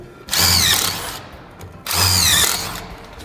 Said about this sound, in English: You'll pre-drill for 2 screws.